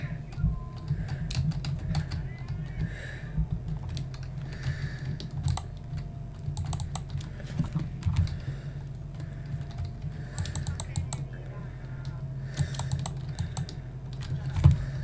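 Steady computer keyboard typing while playing CS:GO, with scattered clicks and key presses over a constant low background hum, close and continuous for the whole stretch.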